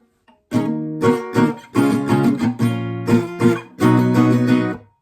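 Acoustic guitar strums through a full chord pattern, steady rhythmic strokes with brief muted breaks, played clearly and up close for about five seconds.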